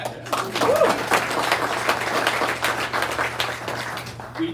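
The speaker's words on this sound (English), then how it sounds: "so a round of applause for" About 65 people at a July community meeting clap together, a busy, fairly steady patter of applause that thins gradually, with a brief spoken word near the start.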